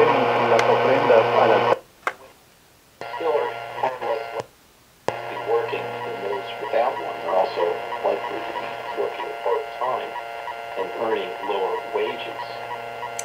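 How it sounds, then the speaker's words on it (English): A Retekess TR638 shortwave radio is tuned to a station, with heavy interference that buzzes and hums around the signal and drops out in two brief silent gaps as the broadcast fades in and out. "you can hear that interference pretty bad even on the shortwave bands, but nice strong signal."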